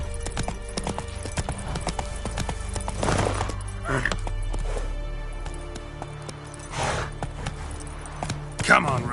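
Geralt's horse Roach from The Witcher 3 clip-clops at a quick gait, with repeated hoof beats, a brief whinny, and scattered game sounds underneath, plus talk mixed in.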